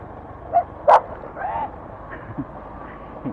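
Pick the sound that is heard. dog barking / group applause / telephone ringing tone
dog barking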